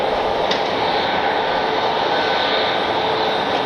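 A Southwest airliner roars on its takeoff run, a loud, steady jet-engine rumble and hiss that stays constant and near the whole time.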